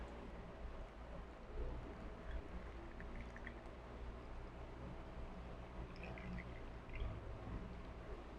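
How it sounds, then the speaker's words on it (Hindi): Water is poured into a beaker of gram flour (besan) for a purity test, a faint, steady trickle over a low background hum. "अब इसमें आपने पानी डालना है।"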